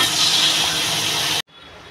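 Fish skin frying in hot oil makes a loud, steady sizzling hiss close at hand that cuts off abruptly near the end, followed by a quieter background.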